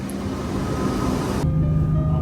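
Steady rumble of a train ride in the Roblox game Bloxburg, an X'Trapolis 2.0 heading for Parkdale station, with a continuous low drone and a softer hum that settles midway through.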